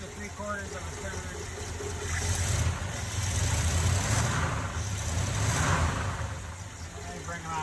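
A 1969 Ford F250 engine with a carburetor needing a rebuild runs steadily close by, its low rumble swelling slightly midway as if revved, with no talk over it.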